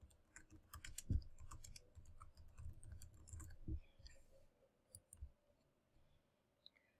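Faint computer mouse clicks, a few soft scattered taps against a quiet room background.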